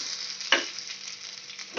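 Mustard seeds, shallots and chili frying in hot oil for a tempering, a close steady sizzle and crackle with one sharper spoon scrape partway through.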